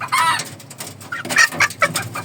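Serama chickens in a backyard coop, a brood hen among them, clucking in quick irregular bursts close by, with sharper calls layered over the chatter.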